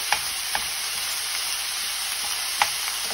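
Minced meat fries in a hot pan with a steady, bright sizzle and hiss, punctuated by a few sharp scraping stirs against the pan, close and continuous with no talking.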